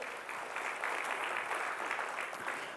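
Church congregation at a GBI service in Tasikmalaya claps together in praise, a soft, distant wash of steady applause with no one speaking over it.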